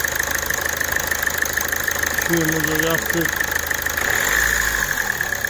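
An Opel 1.6 CDTI diesel engine with a hidden fault runs close by in a workshop, a steady loud idle that rises briefly as it is revved, with someone speaking over it.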